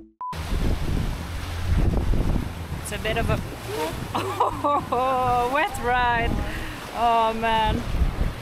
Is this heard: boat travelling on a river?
yes